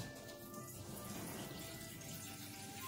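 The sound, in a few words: water running from tap into pot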